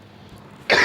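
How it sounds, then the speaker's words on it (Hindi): A single sharp cough from a teacher with a hoarse throat bursts out at the end of a quiet stretch, close and loud. "अगर आपको खांसी की अगर इस वीडियो में आवाज़ आती है"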